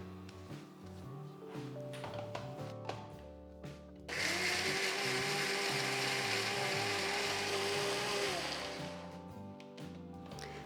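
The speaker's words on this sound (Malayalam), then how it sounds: "ജീരകവും തേങ്ങയുടെ നല്ലതായിട്ട് അരച്ചെടുക്കുക, നല്ല ഫൈനായിട്ട് അരച്ചെടുക്കുക." A mixer grinder grinds coconut, cumin and a little yogurt into a fine paste for pazham pulissery, starting with a loud steady whir after some clattering handling and running several seconds before winding down.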